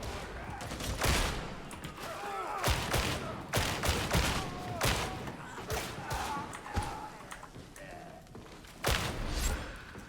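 Gunfire in the video game Darktide, a fast-firing weapon loosing repeated bursts and volleys amid a chaotic mix of shots and impacts, with someone talking over the action.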